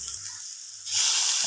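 Squid dropped into a pan of sautéed onions, a hiss that drops quieter and then jumps into loud, steady sizzling frying close by, with no talking.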